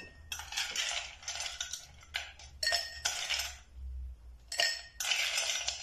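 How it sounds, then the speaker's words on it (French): Ice cubes tumbling into a mixing glass for a vodka dry martini, a run of bright clinking and rattling bursts with short pauses between pours, close and fairly loud with no talking. "On prend son verre à mélange qu'on remplit de glaçons."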